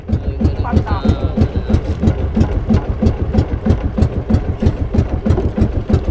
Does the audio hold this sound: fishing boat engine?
yes